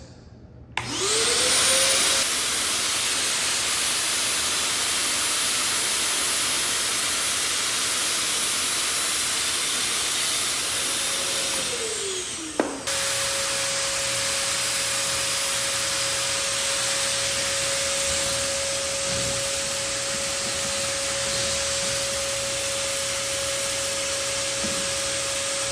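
A fogging machine running during post-fire repairs starts with a loud, steady motor whine and airy hiss, drops briefly midway, then resumes with a sustained tone after being adjusted to spray a fine mist, with no talking.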